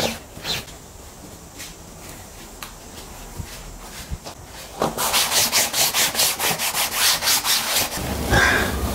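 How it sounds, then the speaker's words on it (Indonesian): Cloth wiping a wheelchair by hand during a household chore, sparse light rubs at first, then a steady run of quick, close, brisk rubbing strokes in a fast rhythm, with no talking. "biasa tugas hari-hari ngelapin kursi roda"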